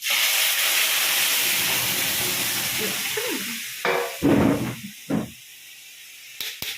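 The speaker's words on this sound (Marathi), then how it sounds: "आणि लसूण फोडणी देणार आहे" Garlic hits hot oil for a tempering, giving a loud, close sizzling hiss for about four seconds that then drops away into a few short spitting bursts, with no talking.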